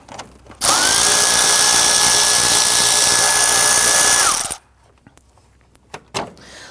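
A power tool whirs steadily for about four seconds, loosening and removing a bolt near the active grille shutter of a 2010-2019 Ford Taurus. The whine is loud and close, then cuts off into quiet with a few small clicks.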